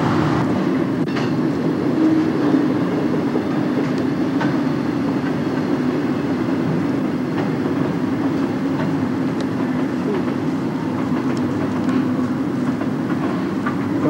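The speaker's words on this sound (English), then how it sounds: "That was the Amtrak train just going by." Amtrak passenger train rolling past in Glenwood Canyon, a steady, loud rumble of wheels and cars with faint clickety-clack holding throughout without a break.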